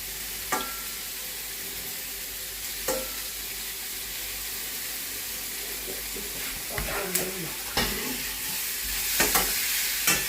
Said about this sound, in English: So now we're frying it all together.